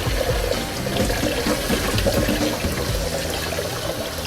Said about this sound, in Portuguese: A gente vai soltar uma água embaixo da sua torneira.